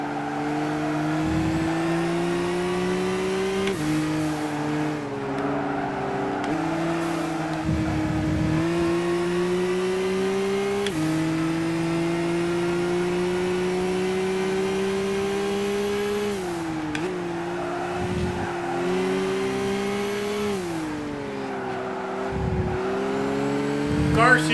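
Race car engines in Gran Turismo 5, among them an untuned Porsche Boxster, drone steadily and loudly throughout, with pitch climbing through each gear and dropping at repeated shifts, alongside faint tire whir.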